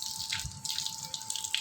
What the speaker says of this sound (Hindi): पानी मेरे ऊपर क्यों गिर रहा है?